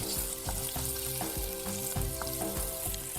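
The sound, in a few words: vegetables frying in a pan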